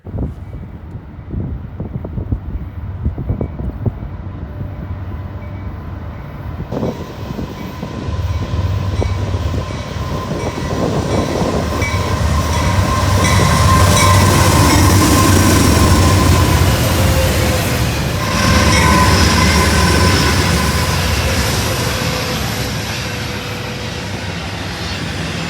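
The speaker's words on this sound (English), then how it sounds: "The third train was a Norfolk Southern intermodal with a GEVO leading" A Norfolk Southern intermodal freight train rolls past with a GE Evolution Series (GEVO) locomotive leading and two AC44s behind, a deep diesel rumble swelling into a loud, steady roar of wheels and cars, with wind buffeting the microphone.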